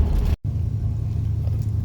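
A high-top roof conversion van driving in traffic gives off a steady low engine and road rumble inside the cab, broken by a brief dropout near the start before the drone resumes.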